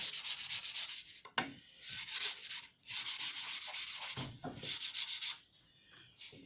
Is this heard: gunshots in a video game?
no